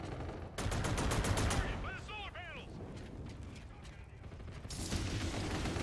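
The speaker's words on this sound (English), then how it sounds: "They can't hear me shooting." Rapid bursts of gunfire from Infinite Warfare gameplay crackle in quick succession, drop off briefly, then resume near the end, with occasional voices mixed in.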